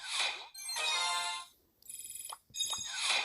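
A phone alert ringtone plays loudly and alone, bright synthetic tones switching between sustained chords and a fast pulsing trill.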